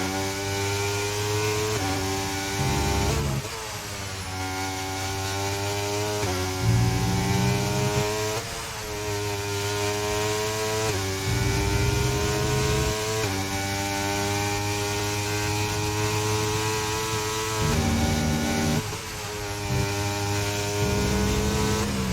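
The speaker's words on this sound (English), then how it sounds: "So we'll just run on board with Abyss. Let's see how how the man in the McLaren goes." McLaren race car engine from an onboard view in an Austria racing video game, droning loudly and steadily with repeated rising revs and brief dips at gear changes, running continuously with no talk.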